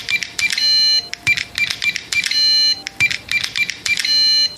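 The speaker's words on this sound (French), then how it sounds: "Ce bruit correspondait aux touches du clavier électronique qui sécurisait la serrure de la porte dérobée." Rapid electronic beeps from a door-lock keypad guarding the back door of a café, sounding in quick clustered bursts of bright, high tones, several presses in a row, close and clear.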